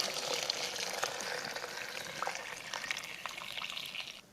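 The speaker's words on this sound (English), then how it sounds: "Add your water" Water being poured into a clay pot of rice with blended tomato, garlic and onion, a steady close splashing rush that continues unbroken for several seconds and thins out at the end.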